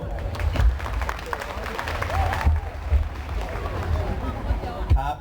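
Audience applause and crowd noise following a student song-and-dance performance at a school event in Yasothon, a steady wash of clapping with scattered cheers, with someone talking over it on a microphone.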